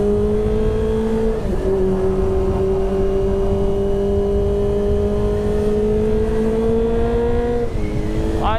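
A Kawasaki ZX25R motorcycle speeding along a road, its engine holding a loud, steady high-pitched whine with slight pitch shifts and a brief rise near the end, close and continuous under wind noise.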